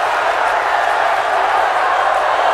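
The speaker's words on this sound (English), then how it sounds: "Let me wait for the crowd to calm down." A dense, loud crowd roar holds steady throughout, a broad wash of many voices and cheering with no distinct single sound breaking through.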